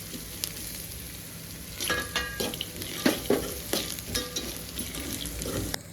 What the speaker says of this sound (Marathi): चांगले ह्याला हलवून घेऊया, आपण एकत्र करून घेऊया